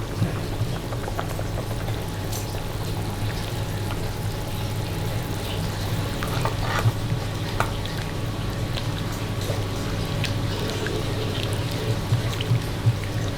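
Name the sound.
coconut milk stirred into tongseng in a pan, simmering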